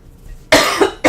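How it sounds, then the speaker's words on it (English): A person coughs a few times in quick succession, loud and close, after a brief quiet pause. "I have to cough one more time"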